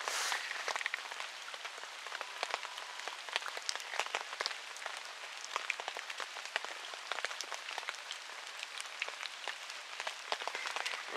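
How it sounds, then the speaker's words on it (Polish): Steady rain patters on a surface, a dense crackling hiss of drops that stays even throughout with no voices. "Pada deszcz."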